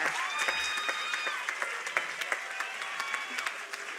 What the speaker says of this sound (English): You can clap for yourself if you want